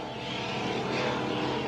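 A helicopter flies over a powerboat race on open water, a continuous loud droning rotor and engine roar that swells slightly, steady throughout with no voices.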